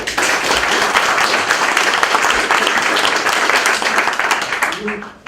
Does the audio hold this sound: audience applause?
yes